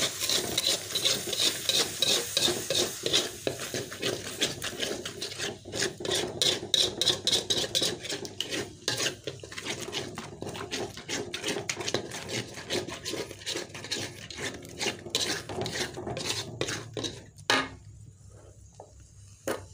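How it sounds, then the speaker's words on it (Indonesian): Spoon stirring egg and vegetable soup in a pot after water is added: a steady run of close, rapid scraping and rubbing strokes against the pot, continuous for most of the stretch before easing near the end. "kita masukkan airnya kita aduk-aduk"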